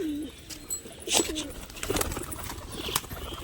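Pet pigeons cooing in short, low, throaty bursts close by, with a few faint chirps and rustles around them.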